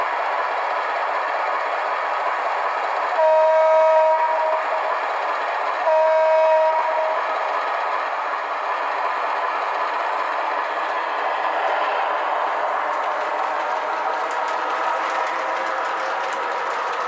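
A model USAF-liveried train locomotive runs on a toy layout, giving a steady mechanical rumble and rail clatter with two loud sustained horn blasts near the start, then continuing to roll with faint clicking.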